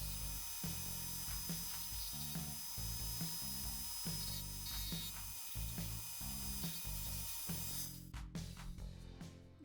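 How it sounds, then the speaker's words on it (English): Metal axle ends on a 1971 Lesney Matchbox Superfast Mercury Police Car No.55 being ground down with a small rotary tool, a steady high whirring grind with a ratcheting, chattering edge that holds throughout and roughens near the end. "These axle ends are just way too big as they are, so I'll carefully grind them down."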